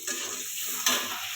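Okra sizzles in hot oil in a pan, a close, steady frying hiss with a sudden brief burst of crackle partway through.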